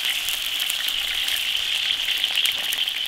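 Ginger and chili paste frying in hot oil in a large iron wok over a wood-fired stove, a steady close hiss and crackle of sizzling that holds throughout without talk.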